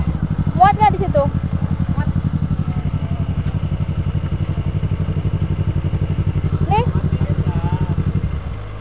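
A motorcycle engine putters in fast, regular pulses during a night ride through Madiun city, loud and close, with voices speaking over it before the engine note tails off at the end.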